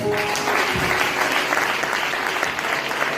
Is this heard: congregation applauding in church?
yes